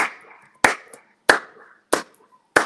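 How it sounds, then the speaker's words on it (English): Four sharp, loud hand claps land at roughly even intervals, each a crisp isolated smack separated by near silence, with faint voice murmur between them. "I don't even know why I'm clapping for you"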